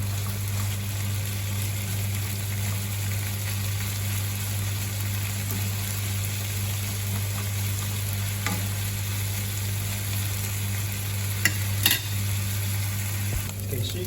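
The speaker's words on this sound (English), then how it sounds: "you can see here the bacon's almost cooked" Bacon fries in olive oil in a pan, a loud, continuous close sizzle with crackling pops over a low steady hum, plus a few sharp spatters near the end.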